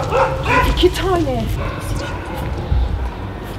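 Large dogs in a nighttime cemetery give a quick run of sharp yelping barks that taper off within a second or so, leaving a low rustling background.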